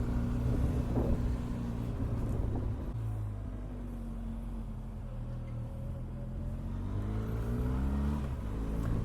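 A 2020 Benelli TRK 502X motorcycle engine while riding: a steady, low engine drone, close and under wind rumble, its pitch dipping and climbing with throttle changes, with no talking.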